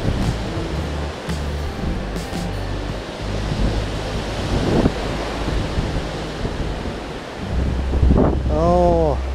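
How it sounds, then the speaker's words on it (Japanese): Surf rolls onto the shore at Taibusa Cape in Chiba under strong gusting wind, a dense roaring wash with heavy microphone buffeting, and a voice briefly sounds near the end. "海だ。"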